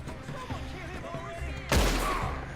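A single hip-fired gunshot in a shooting video game, a sudden loud boom that rings out briefly after a stretch of quieter game ambience.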